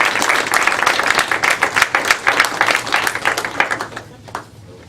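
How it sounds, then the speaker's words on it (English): A room at a county school board of trustees meeting breaks into a brief round of clapping, uneven and crisp from a modest group, tapering off after about four seconds. "Let's give Trace a round of applause"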